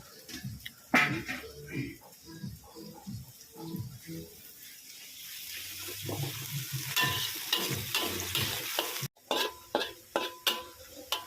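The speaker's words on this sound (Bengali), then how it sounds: "আমাদের বেরেস্তা ভাজা শেষ।" Sliced onions for birista fry in a pan, with soft sizzling under repeated scraping and stirring clatter that comes in irregular bursts, ending in a few sharp knocks of the spoon.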